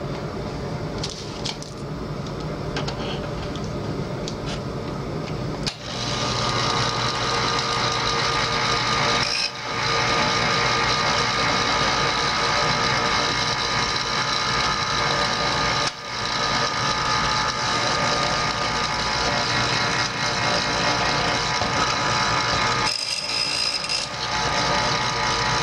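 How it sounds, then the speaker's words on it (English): An electric knife sharpener grinding a knife blade, a loud, steady whirring buzz that runs throughout, broken by a few brief dips and restarts as the blade is drawn through. "taking the knife and putting it into the knife sharpener"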